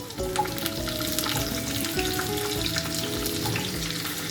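Potato and pumpkin pieces frying in a pan, a dense and fairly loud sizzling crackle throughout, with faint tonal music underneath and no voices.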